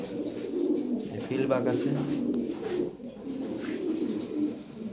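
Lahore Siraji pigeons coo in soft, repeated low rolling calls, close and continuous, while someone talks over them.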